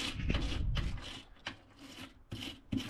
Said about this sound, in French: on va passer un coup de brosse sur toutes les vis